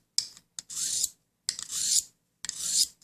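A knife is drawn across a Lansky diamond hone in three close, loud rasping strokes, each a bright abrasive scrape of about half a second, separated by brief pauses and preceded by short clicks.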